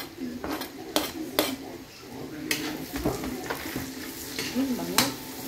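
Onion frying in a pan while being stirred for buttered shrimp with mussels, a continuous sizzle broken by sharp metallic scrapes and clinks of the utensil against the pan, with a voice talking intermittently.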